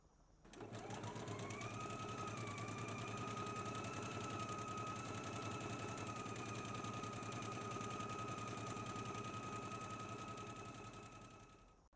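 A sewing machine stitching a 5/8-inch seam on a McCall's 8448 dress, running in one continuous, steady, fast mechanical whir with a rhythmic needle chatter that starts and stops cleanly, close and with no talking.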